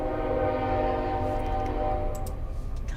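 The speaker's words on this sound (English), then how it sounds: "Choo train coming through." A train horn sound effect gives a sustained, loud, tonal blast for about two seconds over a rumbling rail backdrop, then fades as faint clicks come through.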